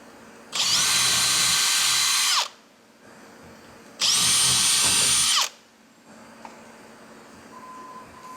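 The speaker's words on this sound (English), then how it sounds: "drill into the timber." A power drill with a 1/8 bit runs in two loud bursts of about two seconds each, whining steadily as it bores into timber, with a brief pause between them.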